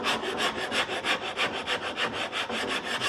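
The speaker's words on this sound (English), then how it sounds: "I have a rasp here. It's nice and wide and flat in one end." A wide, flat rasp shapes a wooden guitar neck in quick, even back-and-forth strokes, about three per second, a close, dry scratching that repeats steadily with no voices.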